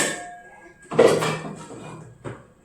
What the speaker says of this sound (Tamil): வீட்டில் இருக்கிறதுலே பெரிய குண்டா இந்த குண்டா தான்.